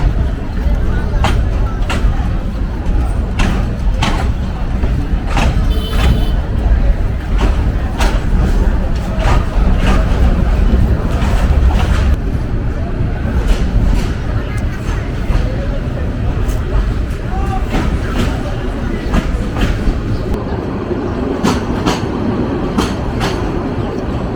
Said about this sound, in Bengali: ব্রাহ্মণবাড়িয়া ভৈরব নরসিংদীর জনপ্রিয় আন্তনগর তিতাস কমিউটার যাত্রা শুরু করলো